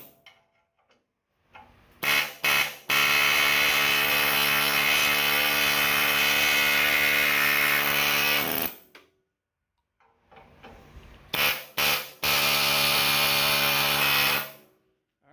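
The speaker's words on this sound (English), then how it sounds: "so we got our air chisel here" An air chisel hammers on the frame of a 1959 Willys CJ-5 during teardown: two long, loud, harsh bursts, each starting with short stuttering pulses and then running steadily before cutting off abruptly.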